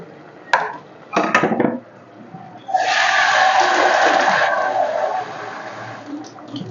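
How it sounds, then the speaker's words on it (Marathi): A couple of sharp clinks against metal, then a sustained rushing patter of washed rice and water pouring into a pot for about two seconds. "तांदूळ धुवून ठेवले होते, ते मी याच्यातच टाकणार आहे."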